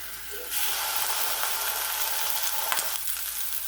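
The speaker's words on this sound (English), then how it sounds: "Okay, so now we're going to add in our ground beef here." Ground beef hits a hot skillet with a sudden loud sizzle that jumps up after a brief quieter start, then holds a steady, dense crackling hiss with small pops. No voices.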